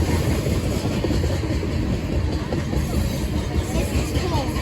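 A BNSF Dash 9 locomotive and its train roll past close by, a loud continuous rumble with wheel clatter and rail noise filling the whole stretch.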